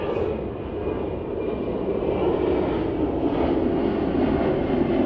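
A steady, broad engine roar of an airplane passing overhead at Milan Malpensa Airport, a continuous rumble that holds its level throughout with no voices.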